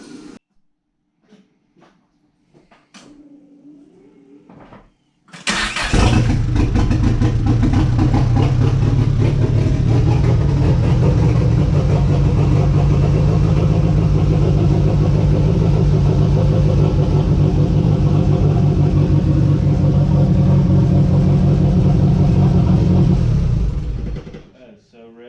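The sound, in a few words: Mitsubishi Conquest car engine starting and idling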